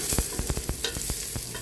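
Garlic sautéing in a pot with onion for a zucchini beef dish, sizzling steadily under a quick run of rhythmic spoon scrapes and stirring strokes, loud and close.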